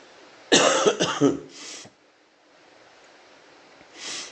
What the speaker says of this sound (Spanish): con un poco de tos hoy